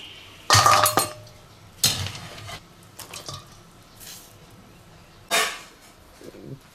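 Blanched lamb ribs are lifted out of a cooking pot, with several separate bursts of metal and glassy clinks and clatter spaced by short quiet gaps, and no talking.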